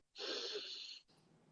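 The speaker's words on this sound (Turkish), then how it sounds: "Omuzlarımızı yukarıya doğru çekelim lütfen. Şöyle duralım. Ve nefes alalım." A person takes one long, noisy breath in with the shoulders pulled up, close to the mic and lasting about a second, followed by a softer, quieter breath.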